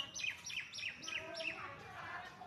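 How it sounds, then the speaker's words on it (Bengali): Birds chirp outdoors on a bright morning after a storm, a run of five quick, evenly spaced high tweets followed by softer scattered calls, close and clear over a light background hum. "পাখির এই কিচির মিচির ডাক কি সুন্দর লাগে শুনতে তাই না"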